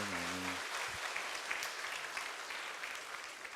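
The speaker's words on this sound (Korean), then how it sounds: "오늘 영접하신 분들, 확신하신 분들 모두 박수로 한번 축복합시다." A church congregation at a Sunday service breaks into sustained applause, a dense and even clapping that starts as music dies away and carries on to the end.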